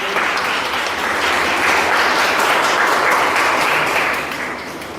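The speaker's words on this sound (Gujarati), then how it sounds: "આપણે સૌ તેમનું તાળીઓથી સ્વાગત કરીએ" A room full of people claps to welcome visiting women from a housing society at an institution for the blind, a dense steady round of applause that swells and then fades toward the end.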